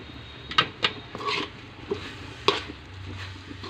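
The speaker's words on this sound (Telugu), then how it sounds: "ఇలా కలిపేసుకోవాలి మొత్తం కలిసే వరకు" Grated fresh coconut laddu mixture being stirred in a pan with cardamom powder added, giving scattered light scrapes and soft clinks of a spoon against the pan, a few distinct taps over a quiet background.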